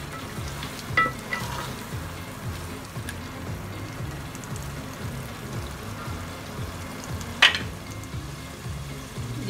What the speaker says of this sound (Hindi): पानी खुश्क हो गया तो मैंने ऑयल डाल के अब देखी इसकी भुनाई कर रही हूँ